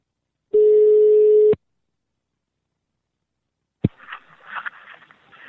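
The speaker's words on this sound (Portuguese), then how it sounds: "vou ligar pra Flora." A single long outgoing-call ringback tone sounds, steady and clear, then stops abruptly, followed after a pause by a sharp click and faint rustling as the line is picked up.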